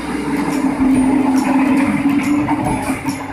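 Inside a passenger carriage of the KA 159 Joglokerto train from Yogyakarta to Purwokerto, a steady low rumble and droning hum of the running train fill the space, loud and continuous with faint rattles on top.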